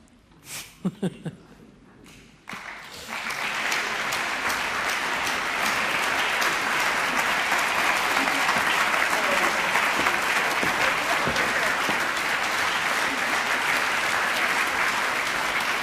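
An audience at a Romansh song festival breaks into applause for the performers, building from a few scattered claps into sustained, dense clapping that continues steadily.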